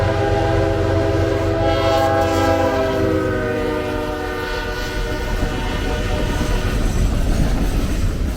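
Norfolk Southern's Triple Crown RoadRailer train, NS 256, rolls past with a steady rumble of wheels on rails while its horn sounds a sustained, multi-tone blast up close.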